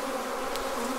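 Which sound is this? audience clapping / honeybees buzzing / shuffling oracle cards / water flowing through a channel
honeybees buzzing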